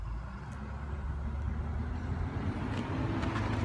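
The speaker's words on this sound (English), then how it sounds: "The garbage truck is never late." A garbage truck idles and rumbles in a driveway on a rainy morning, a steady low engine drone held at moderate distance with no talk over it.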